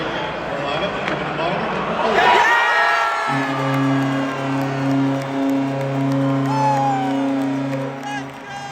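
A hockey arena crowd of Philadelphia Flyers fans at the Wells Fargo Center roars and whoops after a power play, the cheering swelling loudly, then giving way to a sustained organ or horn tone over the crowd noise.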